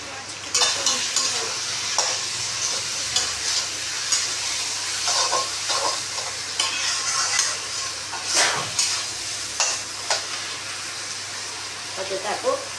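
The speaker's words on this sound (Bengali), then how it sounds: "এবার একটু ভাজা ভাজা হোক, সিদ্ধ হয়ে গেছে পটল" Pointed gourd (potol) fries in a pan with a soft steady sizzle, broken by repeated scraping stirs of a spatula, and a voice talks at times over the cooking.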